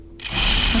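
A sewing machine starts up and runs fast, stitching a jacket in a steady, close, loud whir after a short quiet lead-in.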